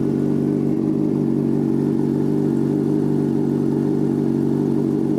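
A motorcycle with a full Toce exhaust idles at a steady, even rumble, a constant low throbbing drone that is loud and close throughout, with no revving and no voices.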